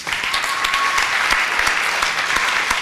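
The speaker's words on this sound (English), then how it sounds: "An applause for Emmanuel." Steady crowd applause for a dancer at a Guild Hall fiesta, dense clapping held at an even level across the whole stretch, no voices breaking through.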